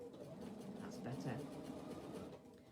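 Sewing machine stitching stretched elastic, a faint steady mechanical whir running continuously under a voice talking nearby.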